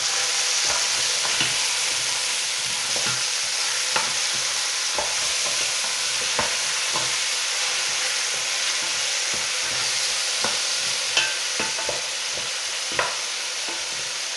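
Pork roast with vegetables, salted and peppered, being stirred in a pot over steady loud frying sizzle, with scattered scrapes and knocks of a utensil throughout.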